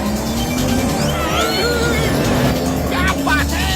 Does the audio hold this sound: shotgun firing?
no